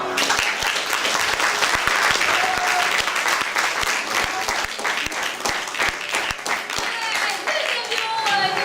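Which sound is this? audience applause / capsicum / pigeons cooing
audience applause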